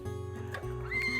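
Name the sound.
Henson horse neighing in northern France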